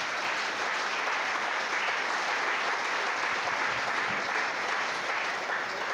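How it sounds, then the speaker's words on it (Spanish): A church seminar congregation claps for the Lord in a dense, sustained round of applause that holds loud and even for several seconds with no speech over it. "Fuerte el aplauso para nuestro Señor."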